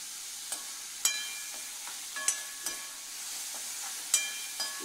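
Onions sauté in a pan with a soft, even sizzle underneath while a spatula knocks and scrapes against the metal every second or so.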